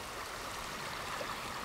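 Stream water flows steadily through a gulch in Grand Staircase-Escalante National Monument, running high and somewhat muddy, a continuous close rushing and burbling wash with no pauses or voices.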